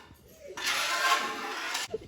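A live raccoon outdoors gives one raspy, hissing growl of just over a second, close and fairly loud. Quiet moments come before and after it.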